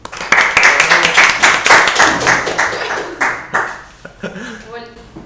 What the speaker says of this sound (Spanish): denle un aplauso también.